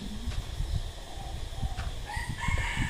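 A Minecraft chicken crows and clucks in short bursts over a steady background of game ambience, with a few brief higher cries toward the end.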